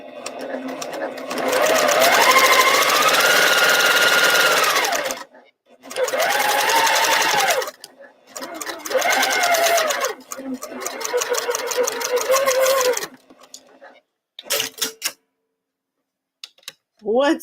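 A sewing machine stitches a quilt in several bursts of fast, steady mechanical whirring separated by short pauses, loud and close, with stray clicks between runs.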